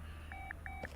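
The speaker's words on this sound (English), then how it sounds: "Okay, that was a phone." A phone in Car Mechanic Simulator 2018 gives a short electronic chirping ring, two brief tonal bursts in quick succession over a steady low hum of the garage, with no talking.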